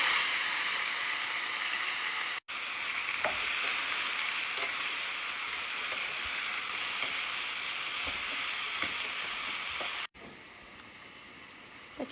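Potatoes fry in hot oil with asafoetida and turmeric for a Gujarati potato curry, a loud steady sizzle with occasional stirring clinks, continuing alone with two brief dropouts.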